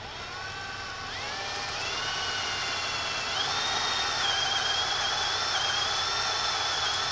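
A power drill whines steadily while drilling a hole, its pitch rising in steps as it speeds up and bites into material, loud and close throughout.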